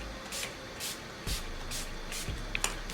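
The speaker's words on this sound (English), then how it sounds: "Okay, shake well. We're gonna spray our face." A makeup setting spray misted onto the face in short bursts, about six quick pumps in an even rhythm, each one a close, soft hiss, with faint handling clicks between them.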